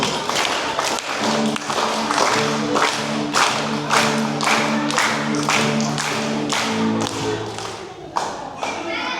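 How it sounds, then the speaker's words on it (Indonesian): Church Christmas celebration audience clapping in a steady unison rhythm, about a dozen sharp claps over a musical backing with sustained tones, fairly loud and close. "Tepuk tangan lagi 12 kali"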